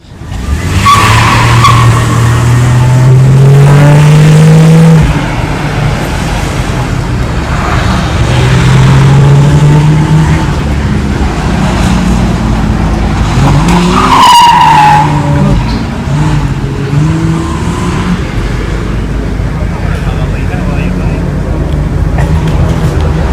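A TWR Jaguar XJS race car makes a demonstration run at Sydney Motorsport Park, Eastern Creek. Its engine roars loudly and continuously, revving up and down through the gears, with tire skids on corners.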